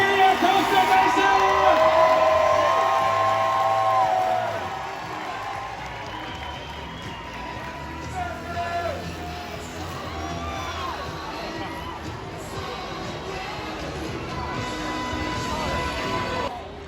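A large crowd at a monster truck show in Costa Mesa cheers, shouts and whoops loudly, with a voice over the crowd at first, then the roar eases to a steady, sustained hum of cheering.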